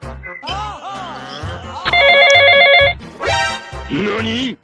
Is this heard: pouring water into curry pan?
no